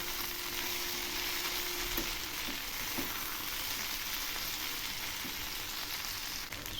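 Small Mourola fish fry in hot oil as part of a bhaja chachari, with a constant soft sizzle, a faint tone early on and a few light clicks of stirring.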